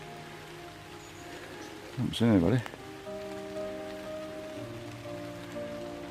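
Rain falls steadily in damp, mossy woods under the trees, a soft continuous patter throughout, with someone speaking briefly over it near the middle.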